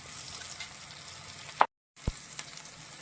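Sliced green chillies sauté in a hot pan for prawn pickle, a soft steady sizzle with a few clinks of a stirring spoon and a brief pause partway through.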